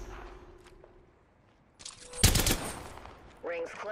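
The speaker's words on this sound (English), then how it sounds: "Opening fire." Gunfire in the Apex Legends video game: a dense, loud burst of rapid shots erupts about midway through, following quieter ambient game noise and faint footsteps, with a brief tonal game sound near the end.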